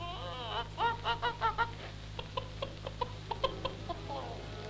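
Chickens clucking in a farmyard in 1939 archival film, a run of close, rhythmic clucks and squawks over a constant low film hum, then sparser clucking.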